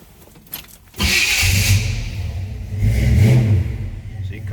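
A 1967 Chevrolet Nova SS cranks and fires up, then its engine settles into a loud, close idle and swells with a rev.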